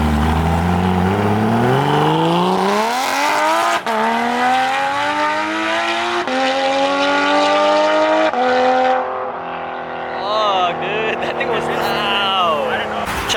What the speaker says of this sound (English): Check it out, we got the black GT3 RS.